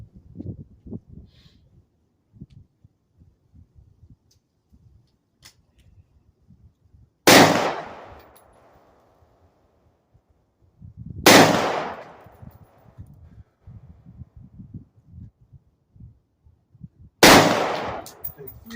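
Three loud, sharp gunshots from a gun with 45-degree iron sights, fired one at a time several seconds apart, each with a long ringing decay outdoors, over quiet background noise.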